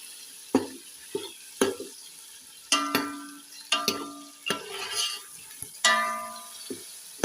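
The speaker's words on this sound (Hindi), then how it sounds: "दो मिनट हम लहसुन और अदरक की भुनाई करेंगे।" Garlic and ginger paste frying in a pan after browned onions, with sharp repeated spoon knocks and scrapes against the pan over a crackling sizzle, close and intermittent.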